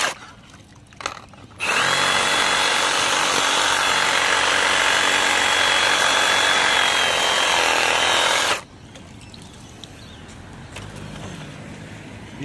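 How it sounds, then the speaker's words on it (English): A power tool saws a hole into an obstruction jammed inside a blocked drain, a loud continuous grinding whine lasting about seven seconds between quieter stretches of background noise. "for now I'll just cut a hole in it and then I'll get the crowbar out and dislodge it"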